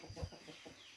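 Chickens and two roosters on a small rural farm plot cluck in a few short, close bursts, the loudest near the start, with no talk over them.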